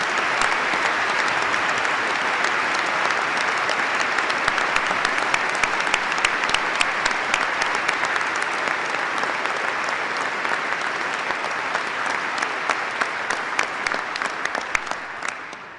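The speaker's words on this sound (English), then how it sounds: "Let's give a round of applause to all our wonderful faculty." A large commencement crowd applauds the faculty in a steady, loud, sustained wash of clapping with no pauses, easing off only at the very end.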